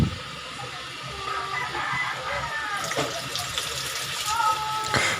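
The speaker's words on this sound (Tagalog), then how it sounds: "Teka, kuha muna tayong tubig." Tap water runs into a bowl for cooking in a home kitchen, a steady close splashing flow with brief louder gushes and faint voices in the background.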